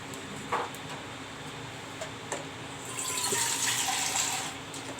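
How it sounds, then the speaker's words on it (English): Water poured into a cooking pot for moong dal in a home kitchen, a soft steady splash and rush that swells louder toward the end, close by with no talk. "I will put little more water."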